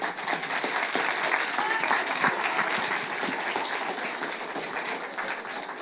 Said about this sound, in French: je vais vous demander de laisser votre place à Mamadou et Lakshmi, que je vous demande d'applaudir